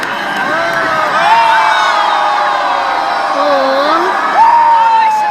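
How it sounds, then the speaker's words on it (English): A person cheering and whooping amid a lively crowd with football blaring in the background, voices rising and falling in sustained yells over steady crowd noise. "The person cheering."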